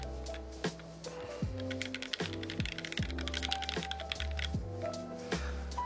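Typing on a rebuilt Volcano 660 mechanical keyboard fitted with lubed Gateron switches and GMK Nautilus keycaps: a steady run of close, fast, deep thocky keystrokes with occasional heavier bottom-out clacks, alone with no talking.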